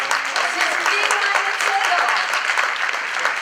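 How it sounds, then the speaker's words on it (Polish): An audience at the Woman of the Year 2016 awards announcement gala applauds steadily, a dense sustained wash of many hands clapping close and loud throughout. "wielkie brawa"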